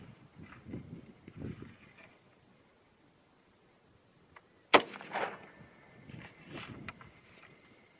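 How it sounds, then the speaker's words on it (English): A single sharp rifle shot from a 300 HAM'R fitted with a muzzle device cracks loudly midway through an outdoor range session, followed by a brief echo, with quiet speech before and after. "Let's go ahead and shoot that second one."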